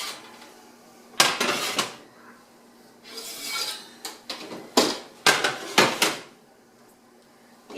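Preheated stoneware baking sheets clatter and scrape as they are pulled from an oven, with several sharp knocks and rattling hard contacts spaced in an irregular rhythm, close and fairly loud.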